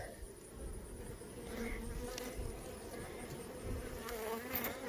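A steady, dense buzz of many nurse bees on a hive frame close by, continuous and fairly loud with no voices.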